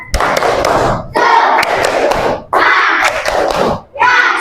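A group of children clap together in a quick patterned rhythm, loud and close, with short breaks between bursts and some voices mixed in.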